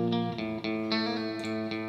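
Clean electric guitar through a Choptones Suur Custom 100TP amp's clean channel with chorus and reverb, a few sustained chords ringing out in succession with a shimmering tail, played alone without any voice.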